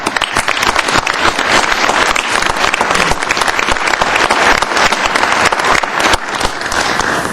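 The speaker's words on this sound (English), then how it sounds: "Let's give all these young people a round of applause" Sustained applause from an audience at a city council meeting, honoring young people appointed to a reinvestment zone board; dense, steady clapping fills the room throughout without any talk.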